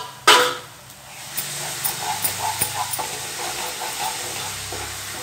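Thick coconut milk sweet cooking down in a kadai at its final stage, a sharp hiss at the start, then a soft bubbling sizzle with a rhythmic series of spatula scrapes against the pan.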